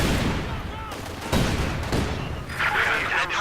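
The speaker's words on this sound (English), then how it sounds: "abundant grenades, grenades everywhere. Light machine guns of all kinds joining in the fight as well." Battle in Company of Heroes 2, a Soviet against German 2v2 match, with grenade blasts and bursts of light machine gun fire rattling densely and continuously, with a commentator talking over it.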